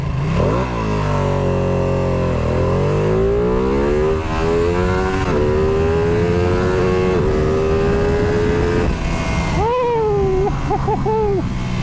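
A Ducati Panigale V2 sport motorcycle pulls hard from rolling speed up to 60 on a private road, its loud, close engine note climbing steadily through the gears with brief dips at each shift, ending in sharp blips near the rev limiter.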